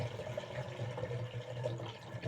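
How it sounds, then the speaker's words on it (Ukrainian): Homemade marigold champagne pours steadily from a litre mug into a flask, a continuous liquid trickle and gurgle at close range, with no voices. "Отак наливаємо і трошки не доливаємо до повного до горлушка"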